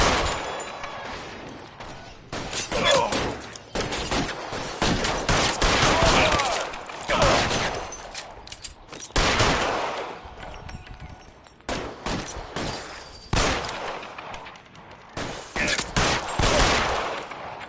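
Loud gunfire from the video game L.A. Noire bursts in repeated volleys and rapid strings of shots, with brief lulls between the bursts.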